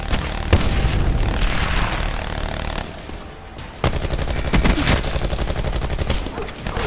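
Rapid turret gunfire in Call of Duty Black Ops 4, a loud sustained burst of shots that stops briefly and then resumes as an even rapid-fire rattle, dense and close.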